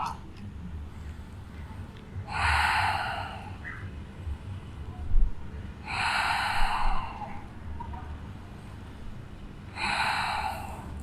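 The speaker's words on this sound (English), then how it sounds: "Let's take 3 more breaths here." Deep yoga breaths taken in downward dog, three long airy exhales spaced a few seconds apart, close and clear over a quiet low background hum.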